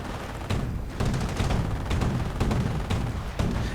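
Bursts of .30 caliber machine gun fire in a World War II strategy game, with several sharp, loud rounds recurring roughly every half second over steady battle rumble.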